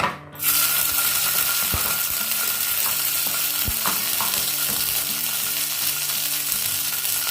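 Ginger paste sizzles and fries steadily in a pan over a lowered gas flame while making dry aloo dum, a loud continuous crackle with a few stirring knocks and scrapes.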